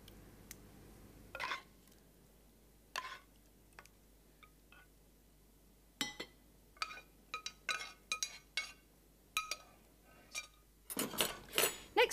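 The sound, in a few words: spooning bolognese sauce over spaghetti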